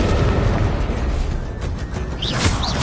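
A Confringo fire spell blasts in Hogwarts Legacy, a loud roaring explosion of dense rumbling noise that swells and crackles throughout, with brief bright whooshing effects near the end.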